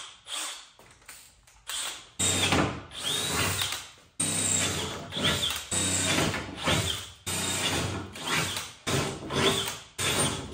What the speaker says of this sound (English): we're just gonna go ahead and run a drill bit right down through there